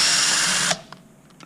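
A power drill backing out screws from the top box PCB during a Zip top box replacement, a close, loud whir that stops abruptly partway, followed by faint clicks.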